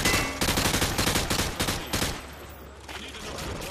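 Automatic gunfire in Modern Warfare 2 rips through light cover as a fast, loud, evenly spaced stream of shots, then breaks off into a quieter tail.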